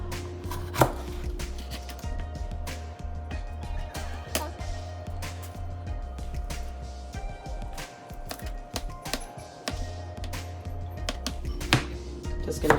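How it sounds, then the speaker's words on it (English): Rapid knife chopping of Scotch bonnet peppers on a cutting board, a steady run of sharp close taps with brief pauses, no talking. "So I'm gonna start by chopping up the Scotch bonnet pepper."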